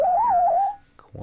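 Bitwig's Tree Monster effect turns a tone into a wavering, whistle-like pitch that bends up and down for most of a second, then fades into a brief pause before a rough, buzzy sound swells back in.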